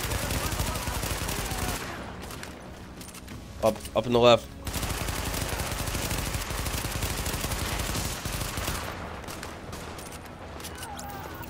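Gunfire from a weapon in The Division, shots bursting loudly over continuous game noise and effects, with a short louder cluster midway while players talk over it.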